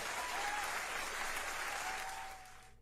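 Applause effect with dense clapping and a few cheers rings out loud and steady, then fades away at the end.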